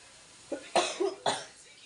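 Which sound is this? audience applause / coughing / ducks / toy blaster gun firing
coughing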